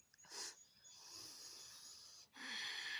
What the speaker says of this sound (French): Respiration Ujjayi par le nez.